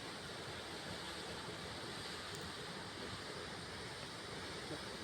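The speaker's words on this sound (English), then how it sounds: "Look, there is the waterfall." Constant broadband rush of a waterfall, loud and unbroken, with a wind-like hiss and no voices.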